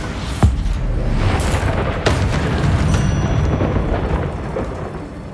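Bombarda spell blasts in Hogwarts Legacy land as a sharp boom, then a second heavy crack about two seconds later, both over a dense, rumbling game soundscape that stays loud throughout.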